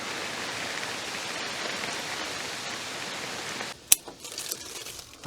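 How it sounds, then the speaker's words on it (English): Steady rain falls outdoors in a garden plot, a dense even hiss of drops that fills the scene, then thins near the end with a few sharper taps and drips. "Really nice to see the rain though."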